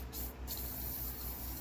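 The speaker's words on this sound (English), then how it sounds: "the spray oil. It's kind of like my rinse." Spray oil hisses steadily from a can onto a disassembled Abu Garcia 7000c3 baitcasting fishing reel during cleaning, a continuous close spray with brief dips.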